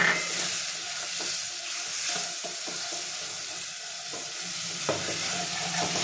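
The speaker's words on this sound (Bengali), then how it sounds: "এবার আমি এটা একটু কষবো।" Turmeric, cumin and coriander powders with a splash of water sautéing in a pan for a potato and pomfret fish curry, giving a steady soft sizzle with light stirring scrapes throughout, close and moderately loud.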